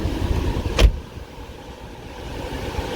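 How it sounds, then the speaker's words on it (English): A 2019 Mercedes-AMG GLC63 4MATIC+ SUV with a biturbo V8 and its sports exhaust flaps open gives a steady, deep rumble. A single brief knock sounds early on. "leave the Sports exhaust flaps open. You won't get as many crackles and pops, but it still sounds really good."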